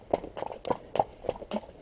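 Horse hooves strike the ground in a brisk trot during foundation training, about six evenly spaced clip-clop beats, close and clear with no talking.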